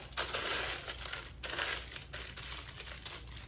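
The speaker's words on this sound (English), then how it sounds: "you just wrap it up in aluminum foil really tight" Aluminum foil crinkles and crumples continuously as it is wrapped tightly around leftover cabbage and other vegetables, close and fairly loud, with brief pauses between squeezes.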